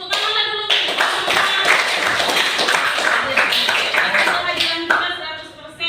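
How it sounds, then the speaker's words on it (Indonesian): An Indonesian classroom of students claps their hands together in a loud, dense burst of applause that fills the room for several seconds, with voices mixed in underneath. "Tepuk tangan lah dulu."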